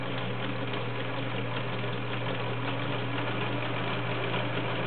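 Vintage 1980s Kenmore model 1781 convertible sewing machine stitching a stretch rickrack pattern, a close, steady mechanical whir and rapid needle chatter running without pause.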